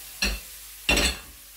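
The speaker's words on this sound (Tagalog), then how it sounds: "Sinasal po ng kaunti sa kawali." Banana and apple pieces sautéed in a skillet give two short bursts of sizzling and stirring, each a close, brief scrape-and-hiss lasting about a quarter second, separated by a quiet pause.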